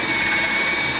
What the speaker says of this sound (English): 1-inch hole saw, about 2 inches up, doesn't have to be exact.